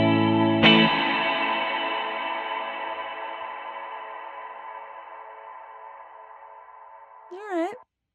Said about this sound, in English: Let's turn reverb up all the way just to hear it.